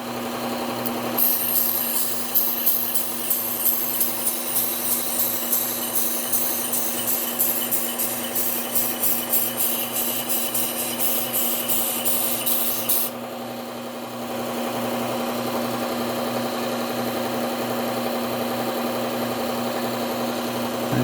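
Serrated Wusthof or Henckels kitchen knife drawn along a sharpener, giving a steady rhythmic rasping of repeated close strokes over a constant motor-like hum, the scraping stopping partway while the hum continues.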